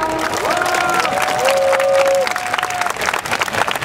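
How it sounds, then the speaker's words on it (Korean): Crowd at an outdoor climate justice march applauding and cheering to welcome speakers, a broad wash of clapping with whoops and voices mixed in, fairly loud and close throughout. "박수로 환영해주세요."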